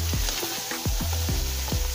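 Diced potatoes fry in hot oil with a steady, close sizzle, broken by several soft stirring scrapes and clatters at irregular intervals.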